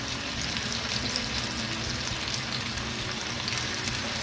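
Koi fish sizzles in hot oil in a frying pan as a spice mix is poured over and around it, making a dense, even crackle like light rain, close and continuous with no talking.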